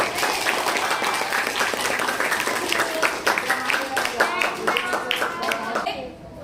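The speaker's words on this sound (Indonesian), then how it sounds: "Beri aplaus untuk kelompok Cendol Dawet." Applause from a classroom audience for a presenting group, a dense run of steady clapping lasting several seconds before it stops abruptly.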